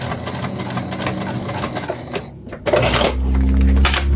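A sewing machine bastes a bag seam in rapid clattering bursts of needle strokes, close and loud, pausing briefly before a heavier run of stitching with a low motor hum.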